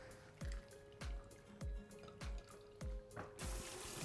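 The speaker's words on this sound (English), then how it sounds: "I should drain all the water out." Water is drained from grated potatoes in the kitchen, giving repeated splashing pours and drips that come in even pulses about every half second, ending in a steadier rush.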